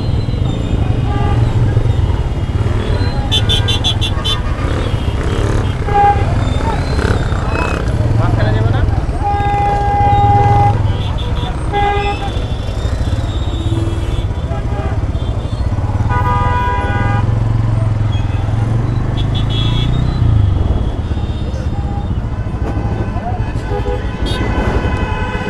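Busy city road traffic with motorcycles, cars and auto-rickshaws, a steady rumble of engines broken by repeated horn honks and toots, loud and continuous throughout, with a voice talking over it.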